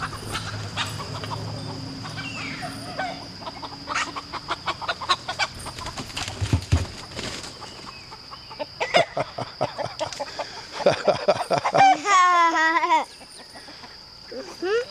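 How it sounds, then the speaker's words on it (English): Ameraucana chickens cluck and squawk in short bursts outdoors under a tree, with a persistent high insect-like whine and some rustling; a louder wavering call rises near the end. "We've got some Americana chickens right here hanging out underneath the tree"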